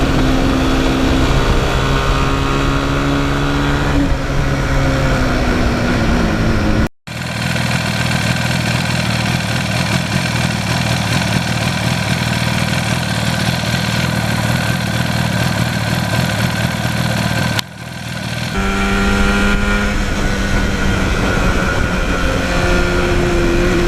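A 1977 Yamaha RD400 two-stroke motorcycle engine runs loud and close, holding a steady buzzing idle with a few revs and shifts in pitch, cut by two brief dropouts, with no talk.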